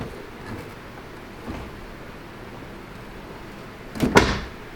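A C6 Corvette door fitted with a widebody kit is opened or closed: a quiet workshop with faint knocks, then a sharp latch clunk and thud near the end.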